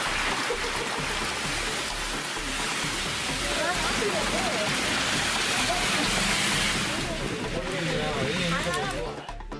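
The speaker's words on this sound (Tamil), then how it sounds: "திருவாரூர் சுற்றுவட்டார பகுதிகளில் பலத்த மழை பெய்தது." Heavy rain falls around Tiruvarur in Tamil Nadu as a dense, continuous wash of noise, loud and steady throughout, with a voice speaking over it.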